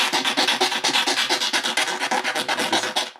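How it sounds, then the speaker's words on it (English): Steady back-and-forth rasping of a file working around the edge of a printed speedometer dial, about twenty quick close strokes in an even rhythm, with no talking. "just go around and just file until you can't see white, but you can see black"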